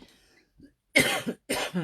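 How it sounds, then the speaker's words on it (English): Two harsh coughs close to the microphone, each a short burst of two pulses, after a faint murmur at the start. "Excuse me, I have got a cough."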